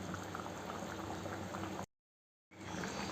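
An oil-free chicken curry with vegetables bubbles in a pot, a dense, steady simmering crackle that cuts to silence for a moment before resuming.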